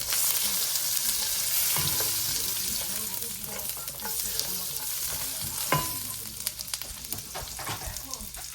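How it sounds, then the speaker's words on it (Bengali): Cashew nuts frying in butter in a pot give a close, steady sizzle with scraping stir strokes and small clinks. "এই যে বাটার দিয়ে আমি এখানে কিছু এই যে কাজু বাদাম দিয়ে দিচ্ছি"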